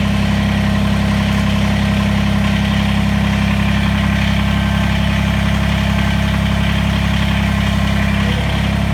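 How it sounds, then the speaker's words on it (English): A Kubota BX23S compact tractor engine idling close by as a snowblower is raised, a loud, steady, unbroken diesel hum and rattle with no talk. "Right now the tractor is idling"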